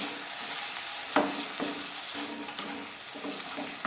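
A cashew, raisin and black mustard paste being stirred into curry masala frying in oil for prawn malai curry, with a steady close sizzle and several scraping spoon strokes against the pan.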